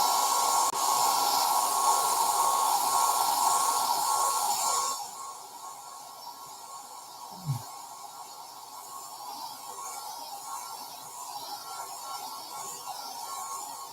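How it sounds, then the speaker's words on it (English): A dryer runs as a loud, steady broadband whoosh for about five seconds, then drops to a much quieter hum with a single brief knock partway through. "Sorry for the sound of the dryer here."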